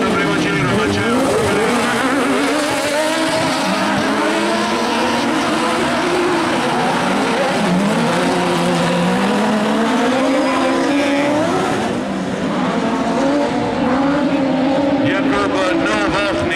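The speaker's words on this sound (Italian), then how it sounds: "Passa Jekler, li vediamo ora passare anche alla fine di questo primo giro." Buggy 1600 race cars at an FIA European Autocross Championship race in Maggiora roar past with loud, continuous engine whine rising and falling in pitch as they go by, with commentary over the top.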